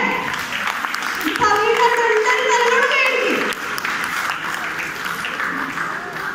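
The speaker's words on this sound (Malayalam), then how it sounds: "കൈയടിക്കട്ടെ." Guests applaud during a lamp-lighting moment at a Christian wedding, a dense wash of clapping from a crowd with a voice speaking over it.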